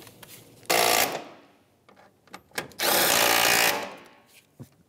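A power tool driving the front bolts into the intake box of a 2015-2019 Hyundai Sonata, heard in two loud whirring bursts, each about a second long, close up with quiet clicks and handling noises between them.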